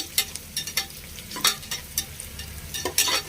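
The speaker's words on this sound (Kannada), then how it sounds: "ಈರುಳ್ಳಿ ಚೆನ್ನಾಗಿ ಫ್ರೈ ಆಗಿದೆ" Sliced onions fry in a pan for fenugreek-leaf pulao with green chillies, a low steady sizzle broken by irregular scraping strokes of a spatula, close and without talk.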